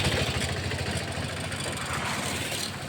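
An auto rickshaw's engine runs steadily on a rough, half-paved road, with a continuous mid-pitched drone and constant nearby traffic noise, at moderate loudness.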